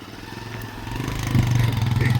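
A motorcycle engine idles and revs as the bike is taken inside a house in an Indian village, its throbbing, pulsing chug growing louder and nearer over about two seconds.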